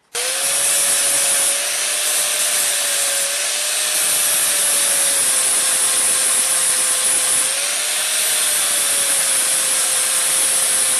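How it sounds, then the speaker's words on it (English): An 80-grit flap disc on an angle grinder smoothing welds on metal, a loud steady high-pitched whine with a grinding hiss that runs unbroken throughout. "Today I'm using an 80 grit flap disc"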